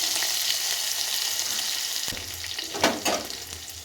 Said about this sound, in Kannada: ಎಣ್ಣೆಲಿ ಫ್ರೈ ಆಗಿ